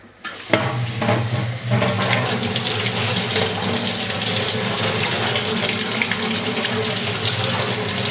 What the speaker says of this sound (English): Just run it under some hot water for a minute